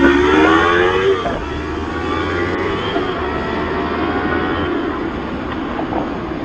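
A Yamaha YZF-R3 motorcycle accelerates while being ridden, a loud steady engine drone with a rising whine in the first second, then continuing at a constant roar with heavy wind rush throughout, no talking.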